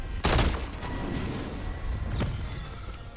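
Video game gunfire: a sharp, loud shot up front, then scattered fainter shots further off against a steady background rumble.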